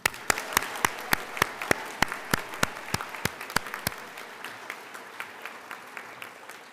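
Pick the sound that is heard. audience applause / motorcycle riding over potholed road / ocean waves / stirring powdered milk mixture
audience applause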